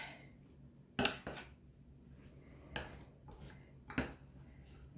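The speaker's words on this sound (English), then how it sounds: "Get these all stirred up." A spoon clinks and scrapes against a dish while stirring chocolate pecan caramel turtles, with a few sharp taps spaced a second or so apart over quiet background noise.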